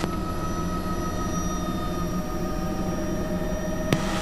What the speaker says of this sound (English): Establishing the aircraft here in a nice five-foot hover